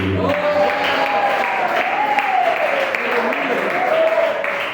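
Dense, continuous clapping from a church congregation indoors during a worship service, with a voice and tonal music carrying over it throughout.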